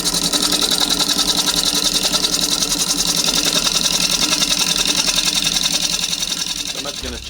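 A wood lathe turns an olive ash cup blank at around 500 to 600 RPM while a roughing gouge cuts it, giving a steady, fast, rhythmic chattering whir that is loud and close, continuous throughout.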